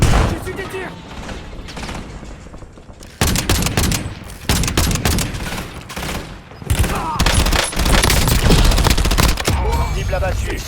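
Heavy automatic gunfire in the Warzone video game, loud rapid bursts and overlapping volleys with brief lulls, while a voice talks over the shooting.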